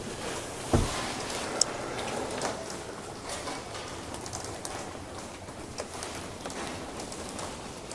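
Rain patters steadily on surfaces around a campsite, a soft continuous hiss with scattered sharper drops and a couple of brief knocks.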